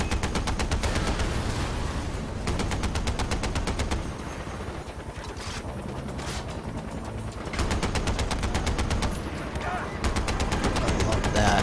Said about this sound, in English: Oh, come on, how much gunfire can that take?